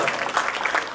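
An audience at a Sri Lakshmi Narasimha Swamy Jayanti gathering at Gita Bhavan claps together, producing a brief, steady patter of many hands at moderate distance.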